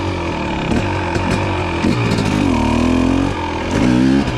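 A 2023 KTM 250 XC TBI dirt bike engine revs loudly and up close on a lap, pitch rising and falling through throttle blips with a steady buzzing drone.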